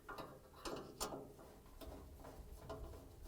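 A Phillips screw is driven down to secure a new high limit thermostat on a Samsung dryer, DC47-00017A part, giving a quick series of soft ratcheting clicks close by with no voices.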